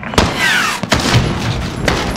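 Several loud, close gunshots from Call of Duty Modern Warfare crack out in quick succession, with heavy booming impacts and a whizzing streak between them.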